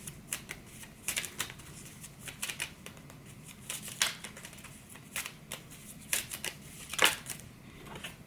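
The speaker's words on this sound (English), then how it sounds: "Here's the cards. I'm going to pull out 5 Lenormand cards." Lenormand cards being handled and drawn from a deck, soft rapid papery shuffling and flicking with small irregular snaps, close and quiet, no talking.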